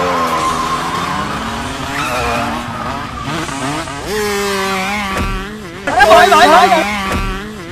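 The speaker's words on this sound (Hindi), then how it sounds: "ये इस ड्यूक का साउंड सुजुकी वाला कब से हो गया यार।" A KTM Duke motorcycle engine revs loudly and close, its pitch surging up and falling back several times, with a harsher burst near the end.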